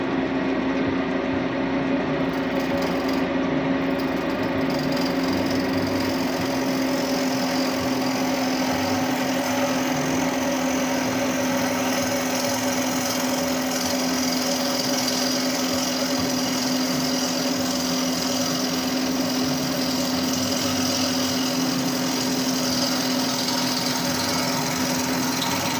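A wood lathe turns a bowl blank at roughly 1,700 to 2,000 RPM as it is rounded, giving a steady, loud mechanical hum with a constant pitch and rough cutting noise throughout.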